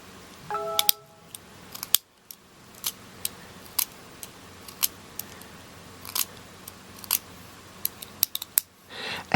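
Small hand cutters nip wood repeatedly while a weaving hook is carved to a point, giving a string of short, sharp, close clicks spaced about every half second.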